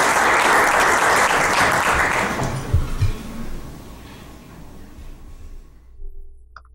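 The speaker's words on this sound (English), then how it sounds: "So let's give Gordon a nice round of applause." An audience applauds a speaker being introduced at a talk, loud dense clapping that tapers off over several seconds and fades to quiet room tone with a few faint knocks at the end.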